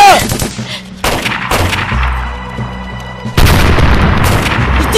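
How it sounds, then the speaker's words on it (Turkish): Bomb blast and gunfire during a TV drama battle scene: a sharp explosive boom opens, a broken burst of shots follows, then a heavier loud blast hits near the end, close and forceful with no talk. "Bomba!"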